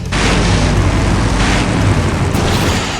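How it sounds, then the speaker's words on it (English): A huge explosion from the video game Full Throttle Remastered roars as a loud, sustained rumbling blast that fills the full three seconds with dense low boom and crackling debris. "Now that's an explosion, ladies and gentlemen."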